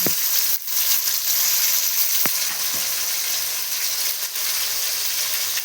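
Onions, tomatoes, green chillies and curry leaves fry in hot oil with a loud, constant sizzle, broken by a few sharp spatula knocks against the pan.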